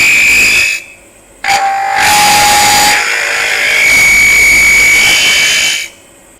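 A wood lathe turning a wooden cross with a bell base, loud whirring and high resonant whine from vibration, cutting in and out in bursts with brief quieter gaps.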